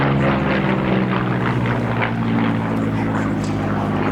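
A Supermarine Spitfire Mk.IX warbird's piston engine drones loud and steady at an air and car show, a continuous throaty roar with rich low harmonics filling the whole stretch.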